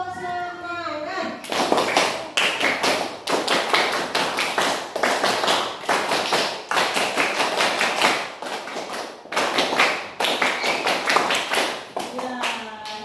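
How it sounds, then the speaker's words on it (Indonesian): A classroom of children performs a rhythmic clapping routine, a long run of sharp, loud claps in patterned bursts with short pauses between phrases, near and dense, with a brief voice at the start and end. "Sekarang kita tepuk semangat dulu ya"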